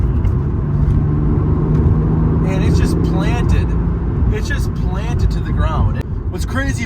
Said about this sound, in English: I'm gonna give it a little gas around this corner